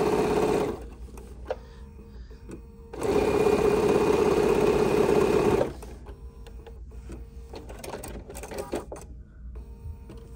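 A sewing machine stitches fabric for a steampunk-themed dopp bag in two bursts: a short run at the start, then a longer steady run of rapid mechanical whirring, with quieter handling sounds between and after.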